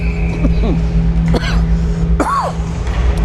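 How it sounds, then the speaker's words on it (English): Two or three short, harsh coughs close to the microphone during a bantam AA hockey game commentary, spaced about a second apart, over a steady low rumble of background noise. "I apologize for coughing right in your ears there, everyone."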